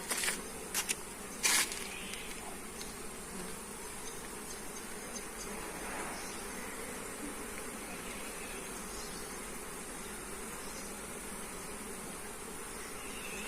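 Honeybees buzz thickly and close around an open beehive during a honey harvest as the agitated colony starts stinging. The drone is steady and unbroken, with a few sharp knocks near the start.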